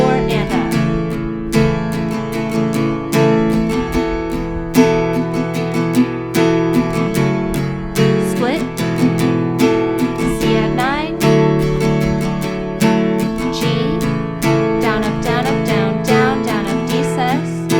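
Guitar strumming at full tempo with accented strokes, a steady, loud rhythmic pattern of chords with crisp, regular strums throughout and no talking.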